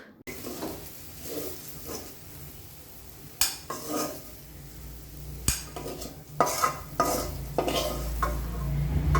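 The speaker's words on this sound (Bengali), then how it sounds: "এখন আস্তে আস্তে ভাজিটা হোক।" Potato and bitter gourd frying with black cumin and turmeric, a soft sizzle under repeated clinks and scrapes of a utensil stirring in the pan, growing busier toward the end.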